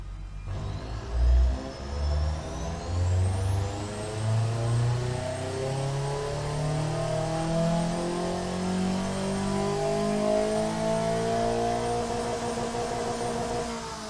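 A car engine in the Automation car tycoon game, fitted with a straight-through exhaust, revs steadily upward in pitch and then holds a sustained high drone, loud and continuous with no talk.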